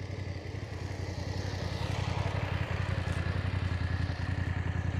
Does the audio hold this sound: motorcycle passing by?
yes